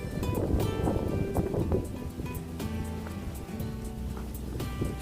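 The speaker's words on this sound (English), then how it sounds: "The wind's now starting to get up a little bit" Wind blowing outdoors at Sheringham Park, a National Trust estate in Norfolk, on an October day: steady gusty rushing with low rumble and scattered faint rustling sounds throughout.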